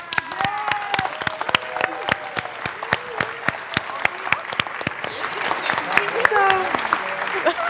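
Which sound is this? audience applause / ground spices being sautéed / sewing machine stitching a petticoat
audience applause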